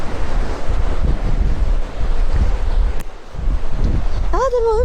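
Strong sea wind buffets the microphone at a rocky coast in Kitakyushu while waves surge and wash steadily, a loud continuous roar with a brief lull near the middle and a voice rising at the end.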